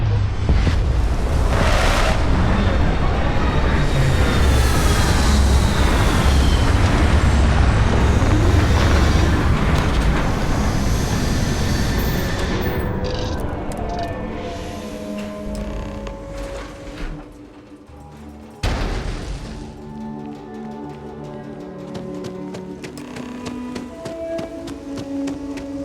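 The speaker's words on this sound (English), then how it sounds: "Beginning landing cycle." Spaceship landing sequence in Starfield, a long roaring rumble of thrusters and wind buffeting that gradually fades, then a sudden heavy thud of touchdown followed by softer mechanical clanks and hums as the engines settle.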